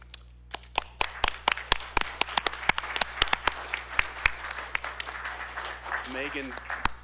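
Scattered, uneven hand claps from an audience at a school board business meeting, a few dozen sharp claps spread over several seconds with a voice talking beneath them.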